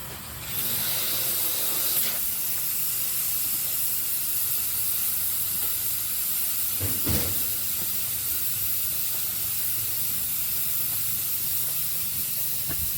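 Steam hisses steadily while kiln-dried wooden canoe ribs are steamed for bending, a continuous broad rushing hiss that holds level throughout, with a couple of brief knocks, and no voices.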